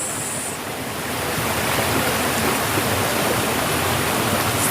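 Water rushes down Kalidonia Falls on a forest trail in Troodos, Cyprus, a steady dense roar that grows slightly louder and holds, continuous and alone with no talk.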